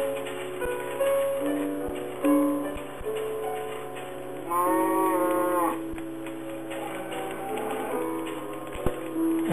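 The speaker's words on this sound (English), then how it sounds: "Like the little audio files for like the cow." Cattle lowing from the Minecraft video game, a few drawn-out moos over a steady background hum and faint ticking, with no talking.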